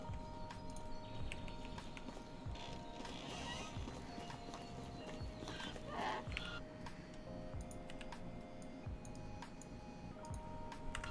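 Hoofbeats of a donkey being ridden at a fast run in the medieval life-simulation game Medieval Dynasty: a steady, quick clip-clop rhythm over a continuous outdoor ambience, moderately loud and without talk.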